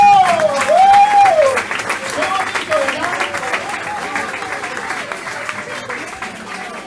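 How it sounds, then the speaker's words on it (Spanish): A church congregation in La Calera applauds during a Spanish-language service, a full crowd clapping steadily while a voice speaks over it and the applause slowly thins out. "¡Den un aplauso a Jesucristo!"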